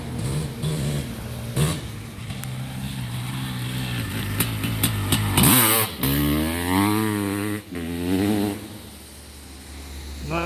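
A Honda CR500R 500cc two-stroke motorcycle practicing holeshots for an uphill sand drag, its engine crackling and braaping loud, then revving hard and rising in pitch as it launches away, the whine fading with distance.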